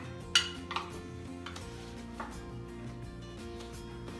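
Carrots and grape tomatoes tumble into a chili pot on the stove: a sharp clatter, a second softer knock, then quiet scattered bumps and faint rattles of vegetables settling against the metal, close by and with no talk.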